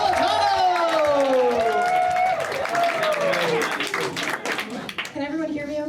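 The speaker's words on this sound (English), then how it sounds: "big round of applause to give her starter, Jenny Napolitano!" Audience at the DC Improv comedy club applauds and cheers as comedian Jenny Napolitano is introduced, with dense, sustained clapping and a voice over it that thins toward the end.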